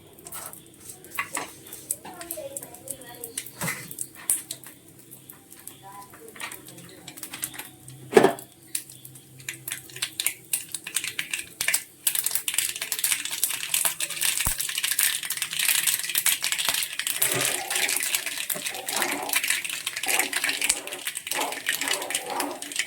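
Mustard seeds popping in hot oil while tempering a coconut-ground prawn curry. Scattered sharp pops at first build into dense, continuous crackling that is loud and close.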